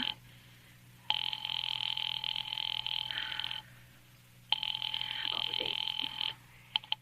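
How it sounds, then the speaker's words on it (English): An old telephone rings in a radio-drama scene, two long ringing bursts separated by a pause, loud and close over a low background hum. "Ringing the police department."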